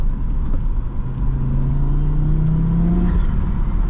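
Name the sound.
turbocharged car engine accelerating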